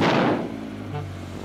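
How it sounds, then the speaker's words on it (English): A cartoon baby truck's engine gives a short loud rev in a kids' garage show, a booming burst that quickly fades into a lower sustained hum. "Let's have a nice loud rev."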